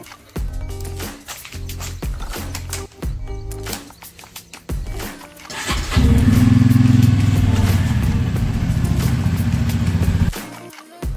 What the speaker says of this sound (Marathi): सगळ्यात आधी गाडी कोल्ड स्टार्ट करून घेऊयात.